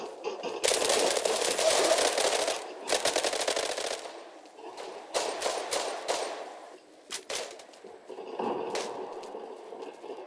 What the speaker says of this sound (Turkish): Arkadan da biri bize sıktı herhalde.